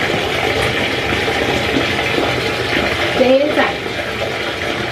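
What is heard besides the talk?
running water filling for dog bath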